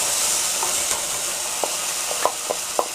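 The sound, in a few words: canned tomato sauce poured into a hot sizzling pan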